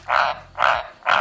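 A male Australian white tree frog, also called a dumpy tree frog, croaks three times in an even rhythm, each call a loud, close, raspy bark.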